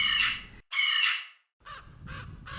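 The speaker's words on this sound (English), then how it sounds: "Meaning was found in the cawing of crows and the flight of raptors." Crows caw in loud, harsh squawks, two long calls followed by a quicker run of three shorter ones, close and clear.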